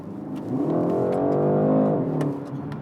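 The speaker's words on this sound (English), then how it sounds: "what is nice about it is the way it explodes when you stab the gas" A BMW 128ti with front-wheel drive and an 8-speed gearbox accelerating hard: a single rising engine surge that swells to a strong rev and then eases off, fairly close, no talk.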